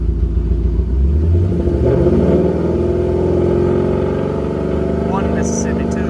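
A VMP G3R-supercharged car engine is revved up to about 3000 rpm and held there, a loud steady roar with a rising pitch that stays close and drowns out any background.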